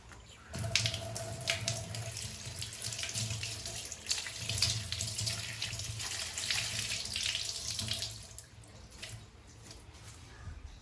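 A kitchen tap runs while curry leaves are washed under it, a steady close splashing stream of water that swells and shifts as the leaves are moved, then eases off near the end.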